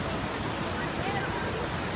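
A countryside waterfall roars as a steady, broadband wash of rushing water, close and constant, with no clear voices.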